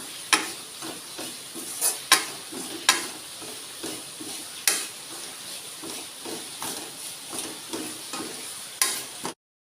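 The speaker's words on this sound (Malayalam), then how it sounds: "ഇത്രയും കൂടിയിട്ട് നന്നായിട്ട് വഴറ്റിയെടുക്കണം. മസാല നന്നായിട്ട് മൂത്ത് കിട്ടണം." Masala for beef chops sautés in a pan with a low, continuous sizzle, broken by repeated scraping strokes of a spoon stirring every second or so, close and fairly quiet, then stopping abruptly.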